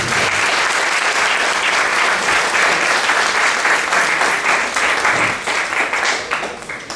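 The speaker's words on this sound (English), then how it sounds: "If you can remember that applause at the end, I really appreciate it" Sustained applause from an audience at a talk on upper cervical care, steady and dense throughout, with no voices on top, tapering slightly near the end.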